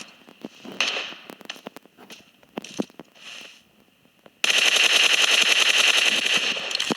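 Video game gunfire: scattered single shots and short bursts at first, then a loud sustained automatic-weapon barrage that keeps rattling to the end.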